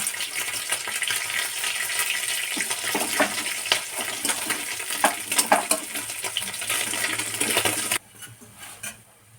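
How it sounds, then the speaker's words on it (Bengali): Small fish fry in oil in a wok, giving a steady close sizzle with scattered sharp pops and clinks, quieting abruptly toward the end. "তেলটাও ঢেলে নিই, মাছ কটা ভাজা হতে থাকুক।"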